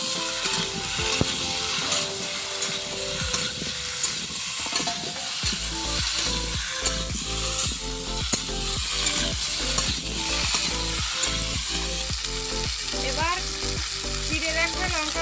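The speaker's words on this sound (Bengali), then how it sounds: "লবণ দিয়ে দেব হলুদ দিয়ে দেব এবার একটু ভেজে নেব" Snakehead fish seasoned with salt and turmeric frying in hot oil, a loud continuous sizzle that swells after a few seconds, with scraping and stirring clatter of a utensil in the pan throughout.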